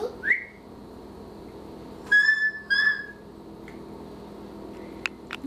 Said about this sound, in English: You can whistle too, Mommy.